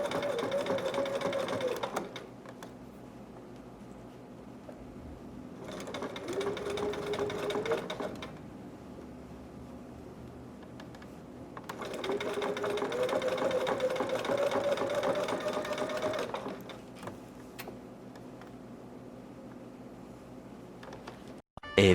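A sewing machine stitches a seam on a dragon or unicorn hood in three steady bursts of whirring, each running several seconds, separated by quiet pauses, close and moderately loud with no talk over the stitching.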